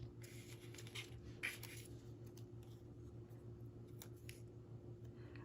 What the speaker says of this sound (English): I have non-stick scissors here.